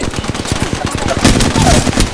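Fast automatic gunfire in Apex Legends, a dense, loud, continuous rattle of shots with heavier bursts in the second half.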